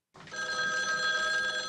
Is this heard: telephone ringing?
yes